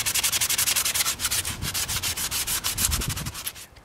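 A 40-pound crepe myrtle wood bow is hand-sanded in quick, rhythmic back-and-forth strokes, a steady close rasping with no voices.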